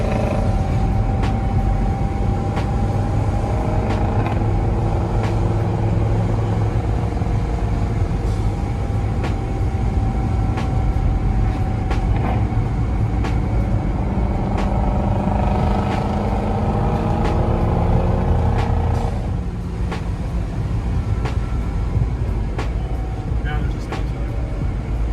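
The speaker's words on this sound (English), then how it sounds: "Sounds sick in the downshifts." Race car engine downshifting, a heavy continuous rumble with rising and falling engine tones and a few sharp pops, heard from inside the car under ongoing talk.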